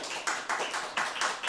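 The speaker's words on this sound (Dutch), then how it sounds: "Groot applaus" Clapping from an audience honouring prize winners at an education award ceremony, a moderate ripple of hands with distinct rhythmic bursts over a short stretch.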